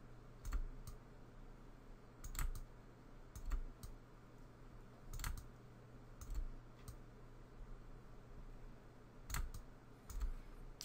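Sparse keyboard key presses in a 3D modeling session: isolated taps and short clusters of clicks spaced a second or two apart, fairly quiet over a steady low hum, with no talking.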